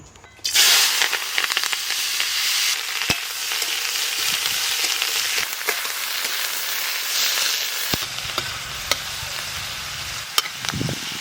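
Onions fry in hot oil for a rohu fish curry, a loud sizzle that bursts in as they hit the pan and then carries on steadily, with occasional clinks and stirring sounds and no talking.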